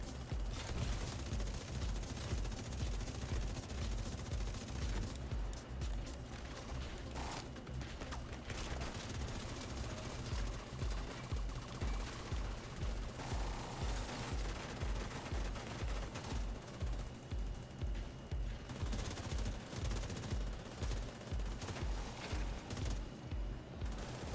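An LMG fires in the video game The Division 2, sustained bursts of rapid gunfire rolling on for the whole stretch, dense and steady with brief gaps.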